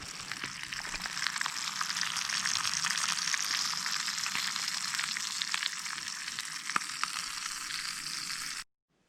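Brook trout sizzle and fry steadily in a pan at a remote lakeside camp, a dense, continuous crackle with a few louder pops, close and unbroken until it cuts off abruptly.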